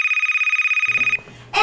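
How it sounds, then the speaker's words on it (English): A telephone rings in the animated movie Cool Cat with a loud, rapid trilling bell pattern for just over a second. It then cuts off, leaving quieter low rustling and a brief bright sound at the end. "Why can no one in this universe just answer the phone without first commenting on the fact that the phone is ringing?"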